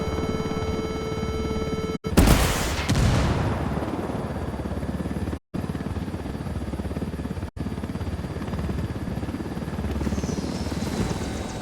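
Helicopter in the video game Ghost Recon Wildlands, a steady loud rotor drone that runs through the whole stretch, with a sharp blast-like burst early on and a couple of brief dropouts.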